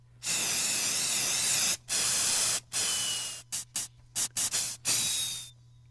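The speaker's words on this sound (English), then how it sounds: "And I only got about a third of this tree sprayed." A tree sprayer hisses in loud bursts as a radio comedy sound effect, starting with long sustained sprays and then breaking into short sputtering spurts as it clogs, with no talking.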